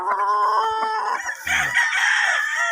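Fighting roosters at a farm, being fed, crow loudly close by, their calls overlapping with clucks and short squawks.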